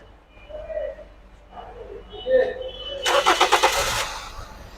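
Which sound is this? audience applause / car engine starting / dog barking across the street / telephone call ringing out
car engine starting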